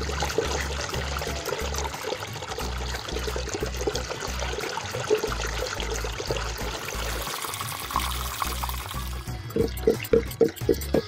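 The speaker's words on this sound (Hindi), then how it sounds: "मुसलसल 15-20 मिनट हो गए हैं तकरीबन रुके बगैर मैं चला रही हूँ।" Cream being churned by hand into homemade desi butter, a steady, continuous sloshing and rhythmic liquid agitation that turns into sharper repeated slaps near the end, close and loud.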